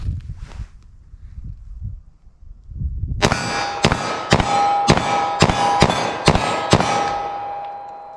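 A .40 caliber pistol fires a quick string of about eight sharp, loud, close shots after a quieter stretch, with a ringing metallic tone sustained between them.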